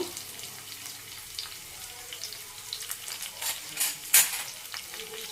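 Sliced onions and green chillies fry lightly in oil for a fish curry, a steady hiss of sizzling with a few louder stirring scrapes toward the end.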